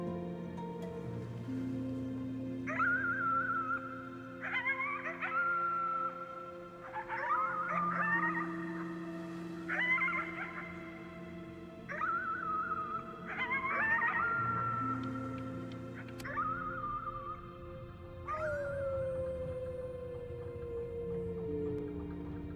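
A voice in the video game Before Your Eyes howls at the moon in a string of drawn-out, wavering wolf-like calls over a steady ambient drone, with no talk over them.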